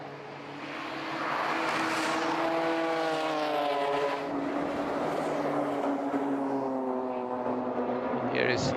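BMW race cars battling at the DeWALT Grand Prix, engines droning with rising and falling pitch as they pass, loud and continuous under a commentator talking.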